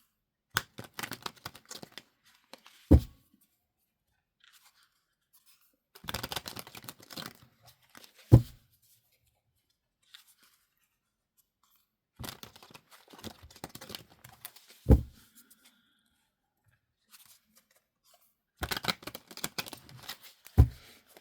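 Tarot cards handled and shuffled for a Libra reading, heard as several separate bursts of riffling and flicking with quiet gaps between them. Each burst ends in a sharp tap, with no talking.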